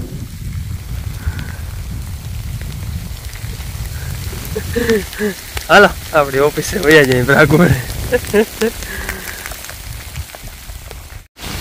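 Heavy rain falls steadily on a village, a continuous low hiss running through the whole stretch while people talk over it in the middle.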